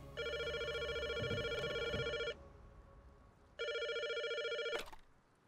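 Landline phone in the game Rust rings in two long electronic bursts with a pause between, loud and close, ending in a short click.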